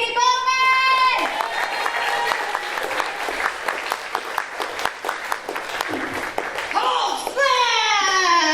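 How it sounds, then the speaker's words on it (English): An audience at a comedy festival show breaks into sustained, dense clapping and cheering for a comedian, a broad wave of applause framed by a voice talking at the start and end. "Let's clap right now. Get loud for Katie Bowman!"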